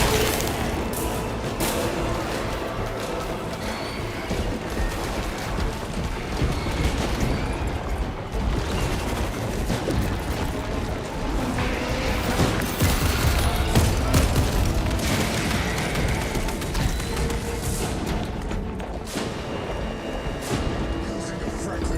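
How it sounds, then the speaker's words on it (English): A frag grenade in a Warhammer 40K video game blast sits inside a dense, continuous din of gunfire and explosions running throughout, loud and layered with battle chatter. "Using a frag grenade."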